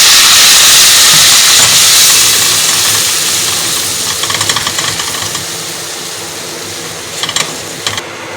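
Flour cooking in a pan for a thick zucchini béchamel gives a loud, steady sizzling hiss with occasional crackles, with no talking.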